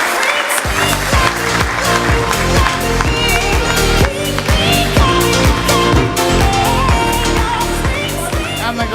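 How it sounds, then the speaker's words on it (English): Audience at an Asian Apprenticeship Awards Night cheering an award winner with loud, sustained applause over pounding, beat-driven music played through the hall, dense and continuous for the whole stretch. "Let's hear a loud round of applause for Sana Shabir and Sana Shabir,"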